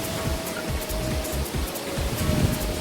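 Waterfalls along a hiking trail near a waterwheel in Payson, Arizona, giving a steady, dense rush of falling water that holds at an even level throughout without a break.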